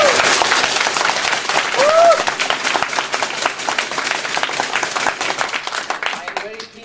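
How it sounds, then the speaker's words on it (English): A Toastmasters audience gives resounding applause at an emcee performance: dense, loud, sustained clapping from a crowd, with faint voices mixed in, fading slightly toward the end. "By making sure you give them a resounding applause."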